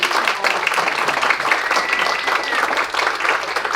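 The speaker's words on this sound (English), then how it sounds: "let us end with another big round of applause for this" Audience at a school class presentation applauding after a staff member is acknowledged, steady dense clapping throughout, loud and close, with no pauses.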